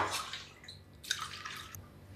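Polished lentils being washed in a bowl of water, with soft sloshing, splashing and dripping in irregular bursts, fairly quiet and close, with no talk.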